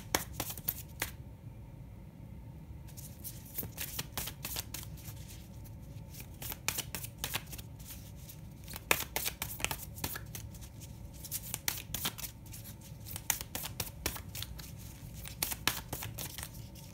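Medicine cards are shuffled by hand with a steady rapid riffling and flicking patter, close and continuous with no voices.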